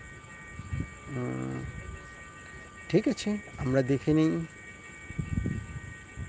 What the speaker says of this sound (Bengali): ঢাকাগামী ট্রেন আসছে